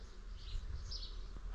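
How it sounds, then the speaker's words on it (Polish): Bees work steadily on a flowering linden tree, a faint, continuous buzzing drone heard alone outdoors. "ale pszczoły to pracują non-stop na tej lipie."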